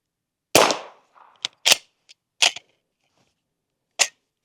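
Several sharp, muffled reports from a suppressed .300 Blackout bolt-action rifle, with a loud first shot followed by quieter irregular cracks and one more shot after a pause, with no talking.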